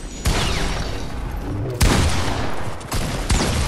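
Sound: shotgun fire in the video game Fortnite

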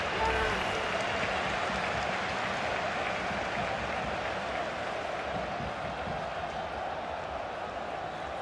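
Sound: crowd applause in FIFA video game

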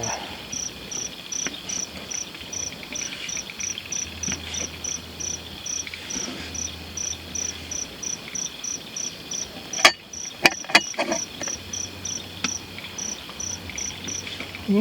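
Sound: insects chirping at night on a mountain campsite

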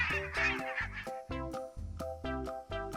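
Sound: adult goose honking call

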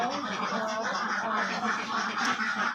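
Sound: ducks quacking

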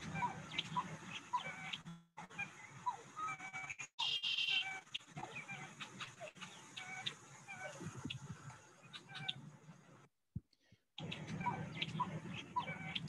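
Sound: grebe and gallinule calls in marsh

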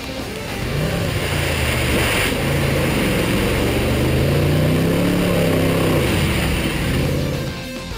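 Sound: Land Rover driving off-road through sand and a ford

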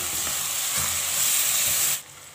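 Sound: spices sizzling in hot oil

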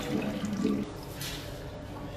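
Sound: toilet being flushed

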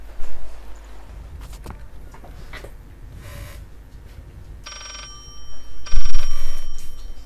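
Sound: telephone ringing in video game Layers of Fear

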